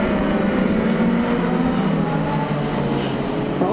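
Racing motorbike engines at a superbike-style race, a steady loud drone with shifting engine tones sustained throughout, no voices.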